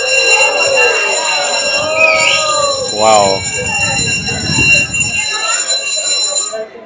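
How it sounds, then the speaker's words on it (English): A loud, steady electronic ringing bell signalling an approaching train sounds continuously on Hanoi's Train Street at night, with a person exclaiming briefly and crowd noise beneath. "I guess that bell is the signal that the train is coming."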